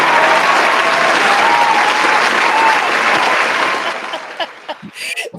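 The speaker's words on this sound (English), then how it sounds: "round of applause to both of you" Sustained applause from an audience at a social justice town hall, loud and steady for about four seconds, then thinning into a few scattered claps.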